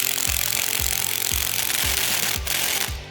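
Aluminum strips being bolted onto a retention pond liner with a power tool, giving a loud, close series of about six evenly spaced impacting bursts under a steady mechanical whir that fades at the end.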